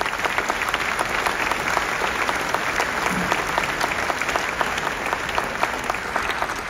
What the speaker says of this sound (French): Je vous remercie de les applaudir chaleureusement.